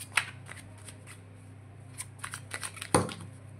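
A deck of tarot cards being shuffled by hand, with crisp riffling flutters and soft slaps repeating in short irregular bursts, close and clear, with no voices.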